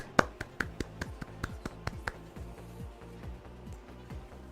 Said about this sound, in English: Golf clap, golf clap.